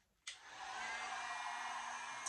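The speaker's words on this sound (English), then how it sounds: "I just said that and then I go and use the dryer," A hair dryer blows on pressed flower art, clicking on abruptly and settling into a steady, loud, close whooshing roar that holds without a break.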